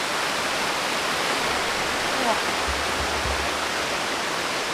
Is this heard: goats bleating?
no